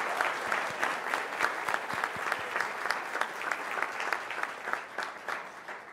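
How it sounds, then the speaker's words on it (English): An audience at a 2022 teacher of the year ceremony gives a warm round of applause for sponsors, steady close clapping from many hands that carries on for several seconds, with no talk over it. "Let's give them another round of applause,"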